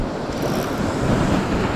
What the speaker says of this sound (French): Il y a de la houle. Je suis trop en hauteur. Il y a le vent qui est là.